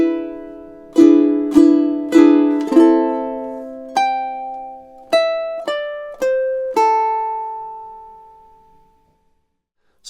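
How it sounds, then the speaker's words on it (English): Measures 8 and 9 of a theme on ukulele: a few repeated plucked chords, then a run of single picked notes climbing in pitch, each ringing out clearly before the last note decays to silence. "let's have a go at playing measures 8 and 9 through together now"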